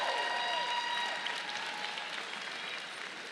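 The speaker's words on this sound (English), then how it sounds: "let's have another round of applause." A crowd at a medical school commencement ceremony applauds steadily, a dense wash of clapping that fades slightly toward the end.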